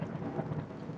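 A low rumble of thunder during a monsoon rainstorm in June, a steady faint roll under the hiss of falling rain, distant and without any voices.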